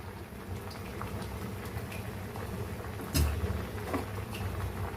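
Cauliflower and sweet potato gravy bubbles in a pot with soft, low, continuous patter and scattered small pops, plus one brief knock partway through.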